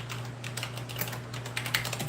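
Fast, steady typing on a computer keyboard, a close run of light clicking keystrokes over a constant low hum, with no voices.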